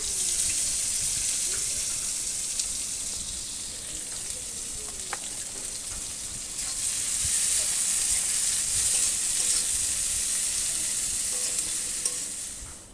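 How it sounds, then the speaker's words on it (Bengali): Onions fry in oil for a fish curry, giving a loud, continuous hissing sizzle close by that swells slightly in the second half, with occasional faint clinks of a spoon. "প্রথমে ওতে খানিকটা তেল দিয়ে পেঁয়াজগুলো ভেজে নিচ্ছি।"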